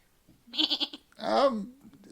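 A goat in a video game bleats twice in quick succession, first a short wavering call and then a longer, louder quavering bleat, close and clear with no talk.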